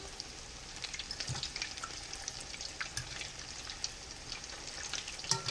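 Potato cakes made from leftover mashed potatoes fry in a pan over medium heat, giving a soft, even crackling sizzle with scattered small pops, steady and fairly quiet with no voices.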